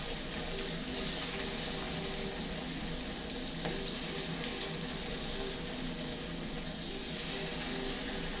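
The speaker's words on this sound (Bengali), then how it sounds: "আর এইভাবেই আরও যে বাকি চিকেনটা আছে সেটাও আমি ভেজে নেব।" Chicken pakoda pieces frying in hot oil, a steady, dense sizzle that continues evenly and closely throughout without pause.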